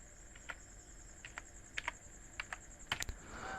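Keys on a computer keyboard are pressed in short irregular bursts of crisp clicks, some keystrokes coming singly and others in quick pairs, close but faint over a thin steady background hum, with no talk.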